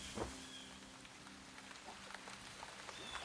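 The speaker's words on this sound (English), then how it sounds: "But then it rained." Steady rain falling and pattering on a surface, a soft continuous hiss with scattered drop hits, moderately close and alone with no voices.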